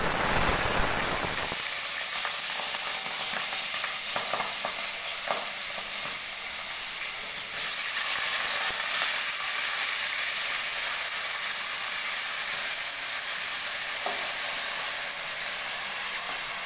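Rice frying with whole cumin seeds in a hot pan for pulao: a bright, steady sizzle and hiss that starts with a brief fuller burst, then holds evenly close up, with no voices.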